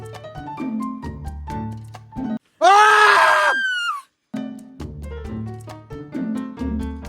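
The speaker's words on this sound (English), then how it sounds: "What are you doing and why are you screaming?" A scream cuts in after talk-like sound and a brief gap, sustained for about a second and a half with a wavering pitch, loud and close, followed by a short silence before the other sound resumes.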